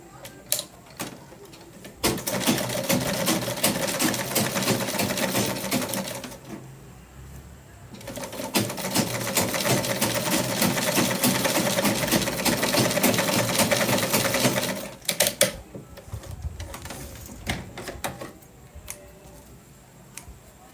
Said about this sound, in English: So you're going to stitch down on this side with your sewing machine.